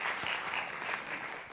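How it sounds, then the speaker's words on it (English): Brief steady applause from an audience for panelists at a conference gathering, a continuous even clapping wash at moderate distance. "let's give a round of applause for our panelists"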